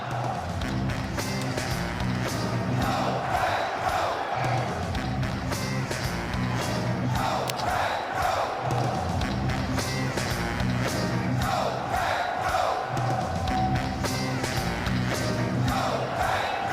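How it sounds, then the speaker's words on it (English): A large crowd at an NFL draft roars and cheers continuously, with shouting voices swelling and fading in waves over a constant background din. "listen to this crowd."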